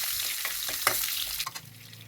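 Bay leaves, fenugreek and whole spices such as cardamom, cinnamon and cloves fry in hot oil with a dense, steady sizzle and a few sharp crackling pops up close.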